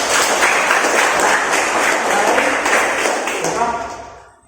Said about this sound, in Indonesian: Tepuk tangan dulu untuk Rafael